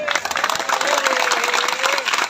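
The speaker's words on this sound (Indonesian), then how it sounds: "Tepuk tangan dong." An audience at a Tabligh Akbar Islamic gathering in Kirana Cikarang claps in a dense, lively burst, with a sustained voice or tone carrying over the applause.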